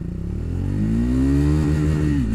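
A Triumph Speed 400 motorcycle accelerates hard in first gear, its engine note climbing steadily in pitch, loud and close, with no voices.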